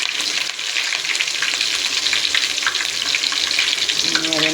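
Cinnamon, dried chillies and curry leaves sizzle in hot oil, a loud, continuous close frying hiss with crackling that holds steady throughout.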